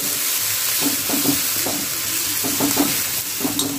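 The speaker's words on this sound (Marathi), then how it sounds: "त्यामध्ये आपण ही चटणी चांगली अशी फ्राय करून घेऊया" Green chutney sizzling in oil on a hot iron tawa with the gas switched off, a steady close frying crackle broken by repeated scraping and stirring strokes across the griddle.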